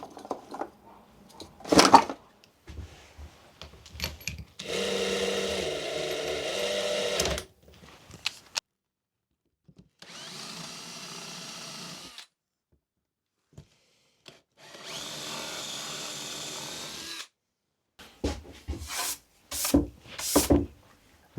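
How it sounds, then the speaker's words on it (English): A Forstner bit bores down into a wood panel to cut a recess for a washer, with three sustained drilling bursts separated by pauses and shorter knocks and handling clatter around them, close and fairly loud. "So I'm going to grab a Forstner bit and drill down with that first."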